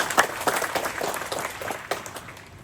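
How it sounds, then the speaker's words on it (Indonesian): Applause at a seminary liturgical music gathering, with scattered distinct claps that fade gradually toward the end. "Maka pantas kita beri tepuk tangan yang semeriah mungkin untuk mereka."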